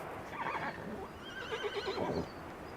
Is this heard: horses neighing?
yes